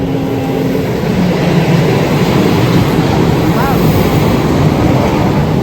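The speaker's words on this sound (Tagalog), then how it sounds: "Our train is coming." A train pulls in with a loud, continuous rumble and rolling clatter that holds steady throughout, with no voices.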